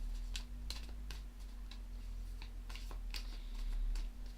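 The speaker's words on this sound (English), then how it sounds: "I will shuffle a little bit more" A deck of tarot cards is shuffled by hand, a faint series of quick crisp card clicks and riffles in an irregular rhythm over a low background hum.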